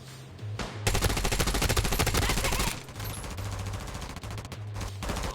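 Rapid automatic gunfire bursts in the mobile video game Tom Clancy's The Division Resurgence, dense and loud for about two seconds, then continued lighter shooting over game music.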